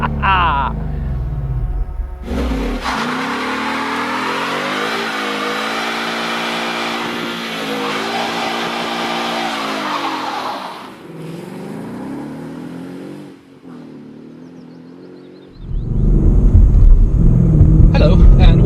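A stock 2016 Ford Mustang GT with a 5-litre V8 and 421 horsepower revs loudly, its engine note climbing and holding in long sustained pulls, ending with a harsh burst of noise, likely tire skid.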